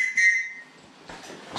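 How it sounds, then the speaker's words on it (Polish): A whistle fixed to a backpack sounds in one short, loud shrill blast, followed by a few soft rustles and knocks. "I jeszcze miałem gwizdek przymocowany na stałe do plecaka."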